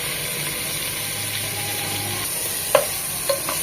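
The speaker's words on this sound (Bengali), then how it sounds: "2 থেকে 3 মিনিট ভেজে নেব চিকেন আর গোটা মশলা সাথে পেঁয়াজ" Chicken sizzles and fries in a pan with whole spices and onion, a steady hiss with a low rumble beneath and a couple of sharp stirring clinks near the end. No one speaks.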